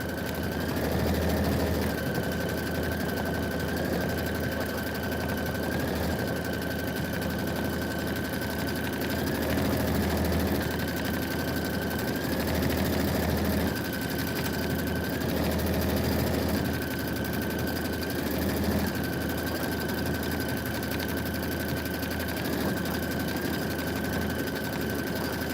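A computerised embroidery sewing machine stitches a Kimberbell Sippin on Sunshine project with steady, fast needle chatter and motor hum, broken every few seconds by short pauses and repeated high tones as the machine runs on alone.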